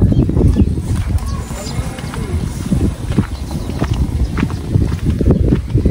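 Buffalo herd walking past near a pomegranate grove on a rural path, heard as a dense run of soft hoof clops and shuffling footfalls filling the whole stretch, with a person talking over it.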